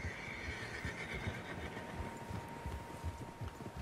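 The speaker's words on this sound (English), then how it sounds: "Horses, quite a few of them." Horses in the Red Dead Redemption 2 video game: a drawn-out whinny near the start over a low rumble of hoofbeats and movement, with the herd sounding moderately close and the whole scene fairly quiet.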